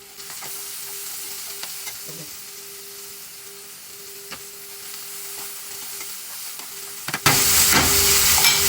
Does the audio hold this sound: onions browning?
yes